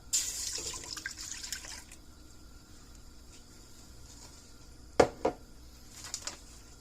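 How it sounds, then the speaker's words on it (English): Two cups of whole milk poured into a pan of melted butter over medium heat for a cheese sauce, a soft close liquid pour at the start followed by quieter sounds and a couple of sharp knocks, with no talking. "I'm going to add 2 cups of whole milk."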